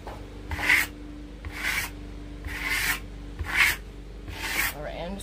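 A trowel scrapes metallic plaster across a stenciled wall in five evenly spaced rasping strokes, each a soft swish rising and fading, close up over a low steady background hum.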